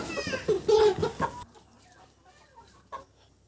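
Loud clucking and squawking from hens and roosters on a poultry farm bursts at the start, then drops away to near quiet with a faint cluck or two.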